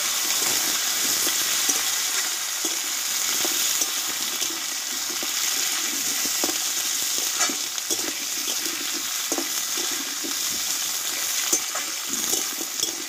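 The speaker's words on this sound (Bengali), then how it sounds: "আর এখানে আলু আর ডাঁটাগুলো আমি একসঙ্গে দিয়ে দেবো। আলু ডাঁটাটা ভালোভাবে কষিয়ে নেব।" Potatoes and drumsticks frying in oil with bay leaf and whole cumin, a steady close sizzle with scattered crackles and stirring clatter throughout, no voices.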